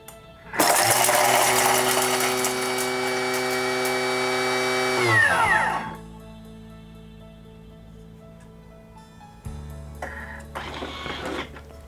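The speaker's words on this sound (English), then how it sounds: "So we're going to put it on for 4 seconds, speed 9." A kitchen food processor runs at speed 9 for a few seconds, blitzing garlic and rock salt for aioli with a loud, steady high-pitched whir that winds down, followed by a brief second burst.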